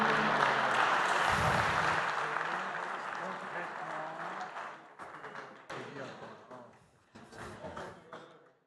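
Audience at an award ceremony applauds prize winners, with dense, steady clapping that fills the room at first, then thins into scattered claps as people begin talking over it.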